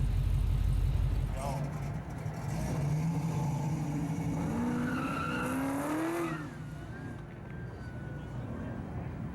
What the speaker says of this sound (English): One really cool 66 Nova Chevy 2 Street Machine from Steve Holcomb